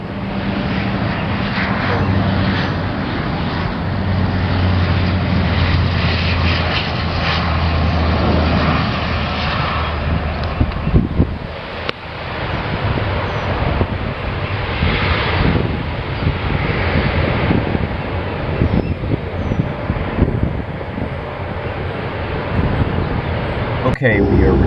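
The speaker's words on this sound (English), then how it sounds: "we've touched down, props are going to disc, and our spoilers are out" Inside a turboprop airliner just after touchdown, props going to disc and spoilers deployed, a loud continuous roar of engines and rushing air slowly shifts as the plane decelerates, with cabin rumble and occasional knocks.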